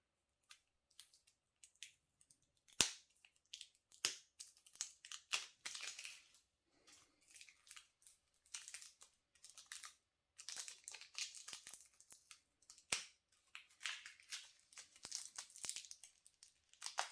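Plastic-wrapped card packs from a board game being torn open by hand, a long stretch of close crinkling, crackling and ripping of wrapper with uneven bursts and brief pauses.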